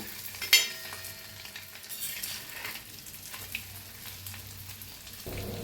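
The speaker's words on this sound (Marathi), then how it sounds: "एका साईडने फ्राय झाले दुसऱ्या साईडने बी फ्राय करून घेऊया" An egg fries in a pan, flipped to cook the second side, with a steady close sizzle and a light clink of a utensil near the start.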